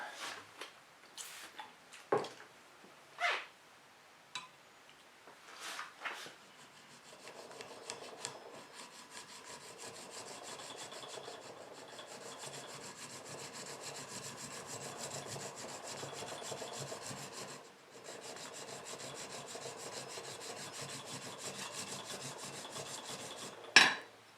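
The blade of a Wood River No. 5 1/2 bench plane ground flat on an abrasive, a faint, steady back-and-forth rasping scrape after a few scattered knocks, quiet and close.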